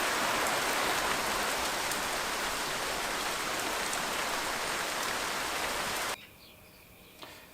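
Heavy rain pours down in a dense, constant roar, close and loud, then cuts off abruptly to near quiet near the end.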